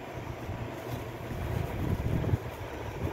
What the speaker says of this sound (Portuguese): Tá ventando muito aqui.